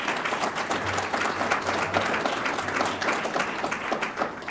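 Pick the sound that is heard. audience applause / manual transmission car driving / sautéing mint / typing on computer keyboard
audience applause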